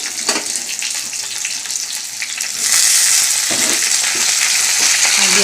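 Potatoes hit a hot pan and fry in a loud, steady sizzle that swells sharply midway and stays bright and close, with occasional stirring scrapes.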